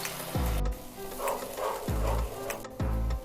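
Mutton masala with added cooking water heats in a pan, giving steady sizzling and bubbling with several clattering stirring strokes of a utensil against the pan, close and loud.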